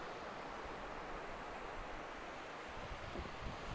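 Sea waves roll onto the beach at Side, Kumköy, a steady broadband wash of surf with faint wind, no voices.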